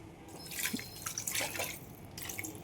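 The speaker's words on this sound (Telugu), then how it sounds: "మరి కాసిన నీళ్ళు కూడా పోసేద్దాం" Water splashes and trickles into a pan of frying cucumber curry in a couple of short bursts, fairly quiet and close, with no voices.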